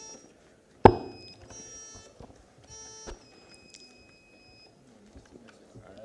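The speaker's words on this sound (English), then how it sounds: "Can we test the buzzers again?" Quiz buzzers are tested: a sharp thunk followed by electronic beeps and tones, a second knock, then scattered faint beeps in a quiet room.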